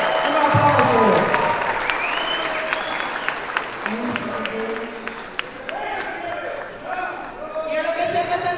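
A crowd at a political gathering in Los Angeles cheers and applauds a singer, with loud whoops and shouting voices over scattered clapping that thins, then rises again toward the end.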